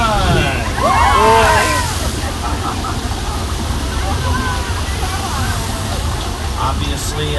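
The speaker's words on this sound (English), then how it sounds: "That flood's created by dumping thousands of gallons of water from the top of the hill." Artificial flash flood on the Universal Studios studio tour, thousands of gallons of water dumped down a hill, rushing in a loud steady broadband wash throughout, with crowd babble and shrieks mixed in.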